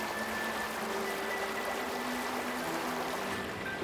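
Stream water rushes through rapids in a steady, broadband wash of flowing water that holds even and continuous throughout, heard alone with some faint tonal hum underneath.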